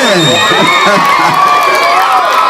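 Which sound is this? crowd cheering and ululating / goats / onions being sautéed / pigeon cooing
crowd cheering and ululating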